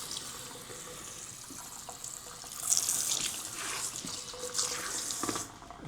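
Water runs from a salon rinse tap as tint is washed out of hair, a steady close hiss of flowing water with splashing surges as fingers work through the hair.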